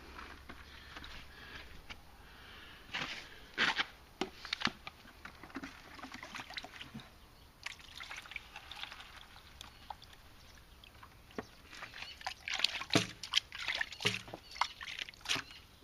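Black sand concentrates from gold panning are worked in a pan of water, giving irregular sloshing and trickling splashes in bursts, busier toward the end, with a soft wet background between swirls.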